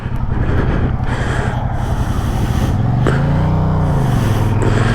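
A 2024 Yamaha MT-07 motorcycle engine revs while riding, a loud continuous drone whose pitch climbs and sweeps up and down, with wind rush layered over it.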